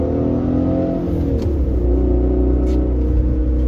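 A small, inexpensive car's engine runs steadily close by, a loud low rumble with a few layered tones that rise and dip slightly as it idles and revs a little, with no speech heard.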